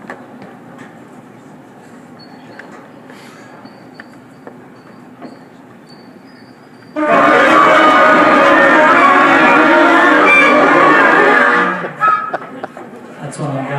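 A beginner school band's full ensemble attempts its very first sound together, a loud, dense, ragged blast of mixed tones lasting about five seconds after quiet room noise, then cutting off into background murmur.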